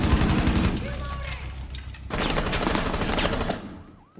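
Dense rapid gunfire fills a competitive video game showmatch, bursts of bullet spam crackling loud and close with a brief lull before the shooting surges again and tails off.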